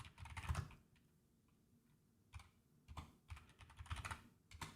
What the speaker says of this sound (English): It's very hard to type with a microphone right in front of your keyboard